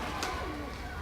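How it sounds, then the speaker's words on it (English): Pigeons cooing at a bird park in the Philippines, a soft low call heard close by against steady background noise, with a faint voice nearby. "Then the pigeons."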